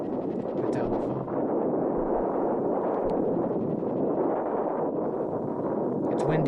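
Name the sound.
wind blowing indoors in video game Mothered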